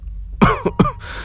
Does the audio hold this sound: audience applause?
no